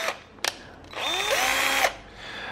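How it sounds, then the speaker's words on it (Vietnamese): A cordless drill/screwdriver motor whirs for about a second with a rising pitch, preceded by short trigger clicks and brief motor bursts, then trails off to quiet. "Con khoan này có khi còn ngon hơn con khoan của mình các bạn ạ."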